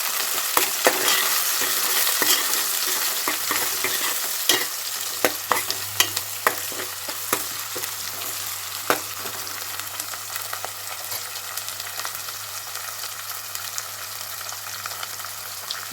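Whole spices and curry leaves sizzle steadily in hot oil in a pan for a tomato meal maker curry, with a spoon scraping and clicking as it stirs throughout.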